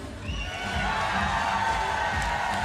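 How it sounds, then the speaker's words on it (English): Crowd cheering at a beach volleyball match at the 2015 FIVB World Championships, a steady wash of applause and shouting that holds at an even level throughout. "Can I hear a great cheer for my pals from America?"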